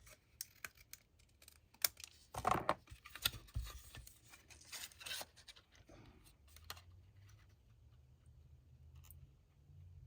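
Scissors cut hand-made designer paper for a fall card, with quiet, close snips, scratches and paper rustles spread unevenly over the stretch and no voices.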